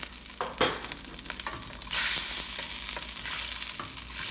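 Ginger dropped into a hot pan for a fish and coconut milk dish sets off a loud hissing sizzle that swells about halfway through and keeps going steadily, with some stirring clatter before it and no voices.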